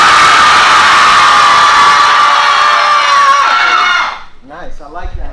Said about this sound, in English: On the count of 3, you're going to scream as loud as possible.